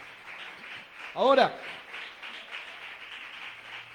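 A church congregation applauds in a steady, moderately loud wash of clapping, with a brief raised voice cutting through near the middle.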